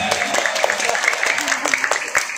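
A crowd of women claps together at a Maulid Nabi religious lecture, dense rapid applause that stays steady and fairly loud throughout, with some voices mixed in.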